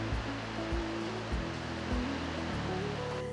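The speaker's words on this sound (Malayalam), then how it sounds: "പൂരി ഫ്രൈ ചെയ്യാനായിട്ട് നല്ലതായിട്ട് എണ്ണ ഒഴിക്കാം. സൺഫ്ലവർ ഓയിലാണ് യൂസ് ചെയ്യുന്നത്." Sunflower oil pouring steadily into a kadai to deep-fry puri, a continuous wash of splashing liquid with faint low knocks underneath, close and unbroken, no voices.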